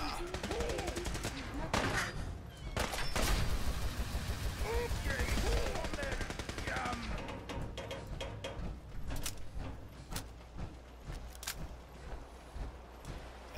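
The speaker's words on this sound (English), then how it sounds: "As you can see, the plasma flame is quite a nice weapon." Plasma flamer being fired in Fallout 4 as a rapid crackling, sputtering burst through the first several seconds, then intermittent pops and bursts over quieter game ambience.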